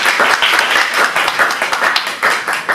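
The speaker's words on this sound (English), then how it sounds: "Let's welcome Leung Tai with a big applause" Audience applause welcoming a lecturer onto the stage at an academic talk: dense, loud clapping from many hands, steady throughout with no voices over it.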